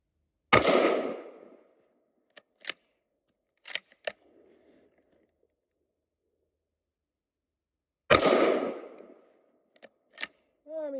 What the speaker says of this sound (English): But now I'll take a few shots.